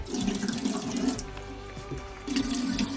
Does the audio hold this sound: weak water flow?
yes